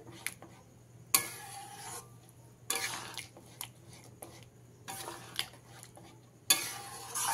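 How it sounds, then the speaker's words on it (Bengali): A spoon scrapes and clatters around a pan of chana masala mixed with tomato ketchup, in four separate bursts of stirring with quiet pauses between them and no talk. "কেচাপটা দিয়ে খুব ভালো করে মিশিয়ে নিয়েছি"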